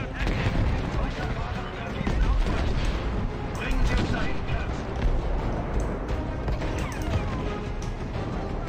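Battlefield V gunfire: dense, loud bursts of rifle shots and heavy explosions crackling continuously, with a voice talking over the chaotic combat.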